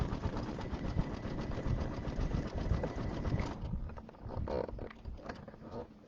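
A sewing machine stitches satin stitches on an Easter egg zipper bag, its dense rapid whirring running steadily and close up for over three seconds, then stopping and leaving quieter, sparser mechanical taps and handling noise.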